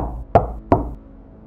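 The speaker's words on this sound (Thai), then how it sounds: "ถ้าใครไปเข้าห้องน้ำคนเดียวแล้วก็มักจะได้ยินเสียงเคาะประตูดัง" Two sharp knocks on a door, about a third of a second apart, close and fairly loud against a quiet room with a low hum, at a haunted women's restroom on the fifth floor of a university.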